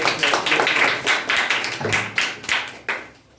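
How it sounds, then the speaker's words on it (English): An audience claps for a speaker at a public speaking competition, a quick run of sharp, uneven hand claps from a small group that tapers off and fades out, close and clear with no speech over it. "Clap for Akhilesh"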